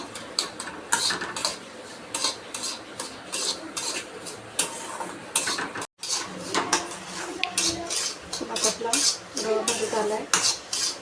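Semolina for sweet sheera is dry-roasted and stirred in a pan. A metal spoon scrapes and clinks against the pan in busy, irregular bursts at close range, with a brief pause midway.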